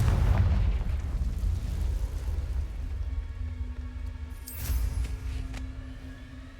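A Confringo blasting curse in Hogwarts Legacy goes off with a heavy, booming explosion up front, then rumbling debris and crackle fade out, with a brief sharp magical burst near the end.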